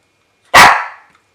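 A single loud, close dog bark, sharp at the onset and trailing off quickly into silence.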